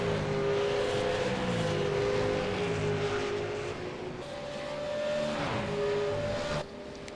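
V8 Supercars race cars lapping the track, loud engine drone with rising and falling revs and a car sweeping past, continuous and fairly close.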